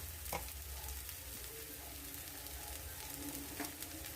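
Finely chopped bitter gourd sautéing in a pan: a quiet, steady sizzle with a couple of soft stirring clicks, faint and close.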